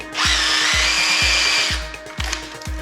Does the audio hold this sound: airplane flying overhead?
no